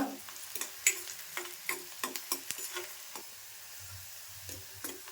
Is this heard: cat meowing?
no